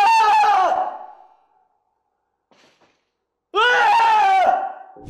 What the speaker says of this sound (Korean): 이번엔 공포의 비명을 조금 넣어볼까요?